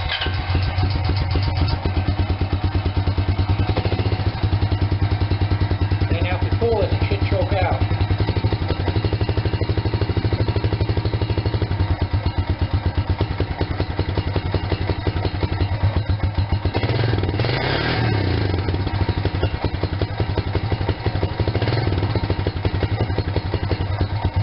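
A 2005 Honda Rancher ATV engine, already warm and started without choke, runs at a steady, close, rapid mechanical putter for the whole stretch, with a few light clatters over the idle.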